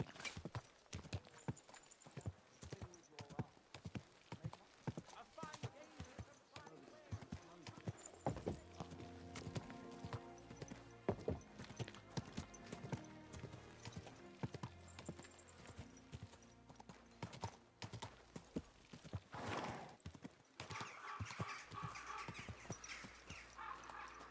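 Horse hooves clopping in a steady walking rhythm in the video game Kingdom Come: Deliverance II, close and clear, with a horse's whinny and voices speaking over the steps.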